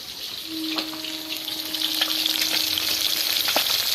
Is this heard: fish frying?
yes